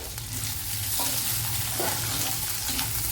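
Carrots are added to vermicelli upma frying in a pan on a Kerala stove. A constant sizzle fills the clip, broken by a few soft stirring clatters, all close and even, with no voices.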